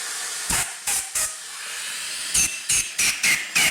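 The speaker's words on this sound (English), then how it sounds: "Now I'm gonna blow through them using my compressor" Short bursts of compressed air blasting through Honda Shadow 750 carburetor jets, three quick hisses followed by a pause and then five more, loud and close.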